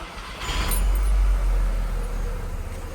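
A VW Eos engine idles just after starting, a low steady rumble heard close with a faint rising whine near the beginning and no talk.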